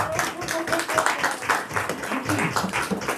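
Audience applause at a live stage hypnosis show, a crowd clapping steadily and fairly close, with a voice talking over the clapping.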